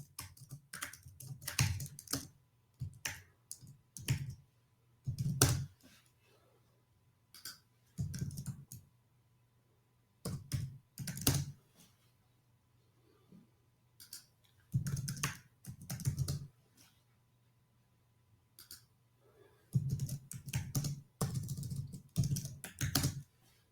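Bursts of typing on a computer keyboard while a webinar poll is written, clicking keystrokes coming in uneven runs separated by short pauses, close and clear with a low steady hum underneath and no talking.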